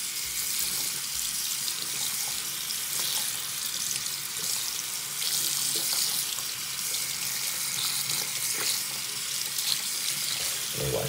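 Tap water runs steadily from a faucet into a sink while a scratched CD is washed, a continuous even hiss of flowing water with no talking.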